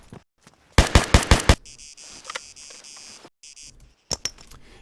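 Gunshots in the ArmA 3 video game with the MegaSound mod: a quick burst of four or five loud, sharp cracks, then a quieter stretch with a tonal hum and scattered small impacts, and two more distinct shots near the end.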